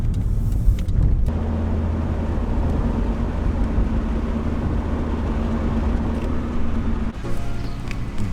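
A small cart's engine drones steadily while driving, its service light on, a constant low hum and rumble that holds close and loud throughout with no voices.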